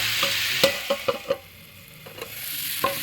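Vegetables and spices being stirred in a pan for a winter vegetable dish, several sharp scraping clinks in a quick cluster, then a pause and two more strokes over a soft sizzle, with no talk.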